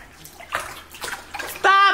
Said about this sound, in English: stop kicking that water